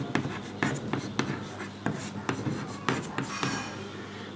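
Chalk or marker tapping and scratching across a classroom board during a Class 12 chemistry lesson on chemical kinetics, a steady run of short close strokes and taps with no talking.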